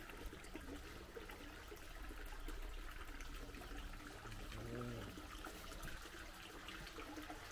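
Underground water runs steadily out of the Sutro Tunnel mine, a continuous trickling rush at low level with no clear pauses or talk.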